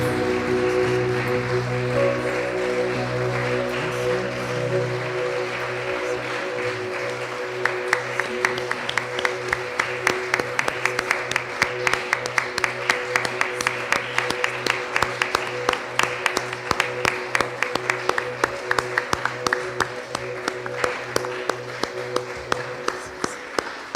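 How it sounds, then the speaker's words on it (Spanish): A church congregation claps for God at the close of a Spanish-language service, beginning over a sustained organ-like musical chord and then settling into a long, dense, rhythmic run of hand claps that continues after the music fades. "Dale un aplauso a nuestro Dios."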